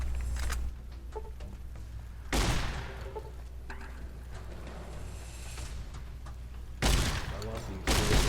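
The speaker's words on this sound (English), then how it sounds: "Who doesn't love the explosive rounds?" A shotgun fires explosive 12 gauge rounds in Fallout New Vegas: three loud, booming blasts with a short burst at the end, over steady game ambience and a speaking voice.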